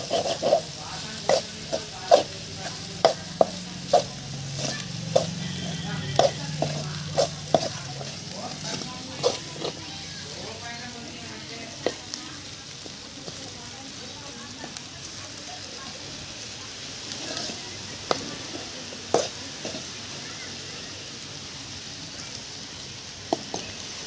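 Eggs are cracked into a pan of frying onion and garlic curry on a balcony, with a soft, steady sizzle, clinking taps of a spoon against the pan and occasional quiet talk.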